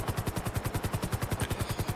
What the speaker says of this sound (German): Am besten ihr zwei springt's raus und ich stürze ab mit dem Heli.